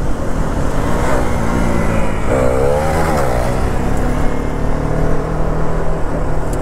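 An Apache RR310 or KTM Duke 390 motorcycle engine drones loud and close during a wheelie, with a brief wavering rise in pitch partway through over a continuous rumble.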